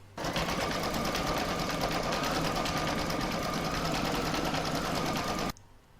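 A home embroidery machine stitches an in-the-hoop frame for a scissor holder and pin cushion, a steady rapid mechanical hum that runs evenly and stops abruptly near the end.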